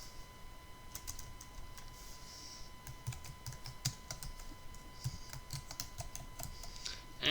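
A computer keyboard is typed on at a steady, quick pace, producing a run of light, close key clicks over a quiet background, with no talking.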